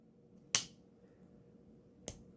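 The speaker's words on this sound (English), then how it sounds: "You have a nice snap open, snap close" A Case Seahorse Whittler pocket knife with blue denim jigged bone handles gives two crisp, sharp snaps about a second and a half apart, close and clear against a quiet background.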